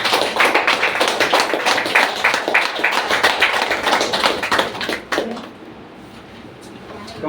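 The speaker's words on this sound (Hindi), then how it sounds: "इनके लिए जोरदार ताली होनी चाहिए।" An audience at an indoor training event applauds loudly for several seconds, then the clapping stops abruptly, leaving a quiet room.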